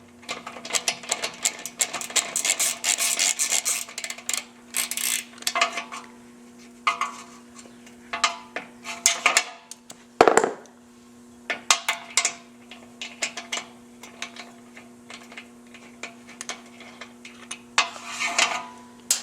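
A ratcheting box end wrench works a fender bolt loose on a Victory motorcycle, giving rapid metallic clicking and clanking in irregular bursts, close and fairly loud, with a steady hum beneath and one heavy clunk midway.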